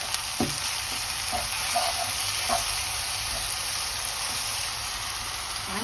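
Minced meat frying in olive oil in a pan, a loud, continuous hissing sizzle with a few clicks and scrapes of stirring throughout.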